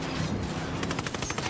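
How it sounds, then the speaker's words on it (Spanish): Rapid gunfire comes from a truck in Ghost Recon: a fairly loud, regular string of sharp automatic shots, following a stretch of rumbling engine and ambient noise. "Disparan del camión."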